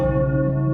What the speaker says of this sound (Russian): А может, и в старой колокольне, чьи колокола звонят сами по себе в неподобающий час.